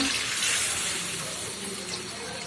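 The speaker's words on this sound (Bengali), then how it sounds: "এখন আমি ঝোলটা দিয়ে দিব" Broth poured into a pan of taro and shrimp curry, a steady close gushing of liquid with no talking.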